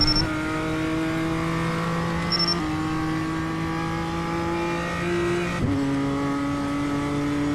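A BMW M2 in the iRacing simulator revs with a steady, high engine drone that climbs in pitch, drops sharply at a gear change near the end, then carries on, loud and close with no talking.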